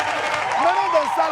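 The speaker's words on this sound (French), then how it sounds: "On l'a déjà applaudi, mais on l'applaudit encore." An audience claps and cheers for a taekwondo world champion, a steady broad wash of applause heard under a loud voice speaking over it.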